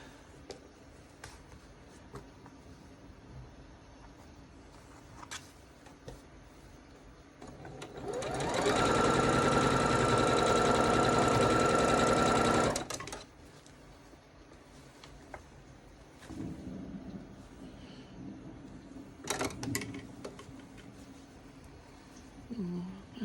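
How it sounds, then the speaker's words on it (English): A sewing machine stitching a seam on a red quilt runs in one steady, loud burst of about five seconds, with quieter handling sounds and some talking before and after it. "I'm going to take this seam in, elongate it."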